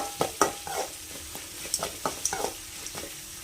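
Onions fry until golden brown, sizzling and crackling in hot oil, with irregular stirring scrapes and soft pops, fairly quiet and close.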